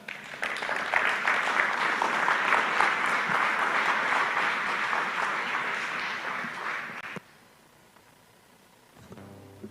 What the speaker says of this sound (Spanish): entonces recibámoslos con fuertes aplausos